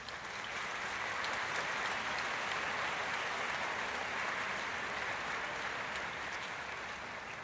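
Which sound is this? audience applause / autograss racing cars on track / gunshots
audience applause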